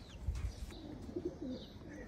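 A female Sithwala Teddy pigeon cooing softly at close range, low murmuring coos over a steady background hum, with no talking.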